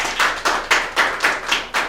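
Audience clapping at an academic laboratory conference, heard as a steady run of about eight evenly spaced, fairly loud claps with no voices.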